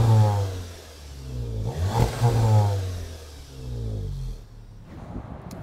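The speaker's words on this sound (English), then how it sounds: "this is what the exhaust system sounds like now" A Volkswagen Mk7 Golf R Estate with a Milltek exhaust revs repeatedly, its deep engine note rising and falling through several blips, fairly close and without talk.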